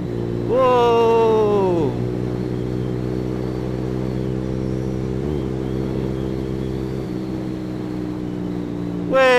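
A Honda CS1 motorcycle engine revs up sharply, then settles into a steady drone while riding, with a brief exclaiming voice and another rev at the end.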